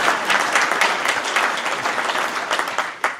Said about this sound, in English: Let's give the mayor and council a huge round of applause.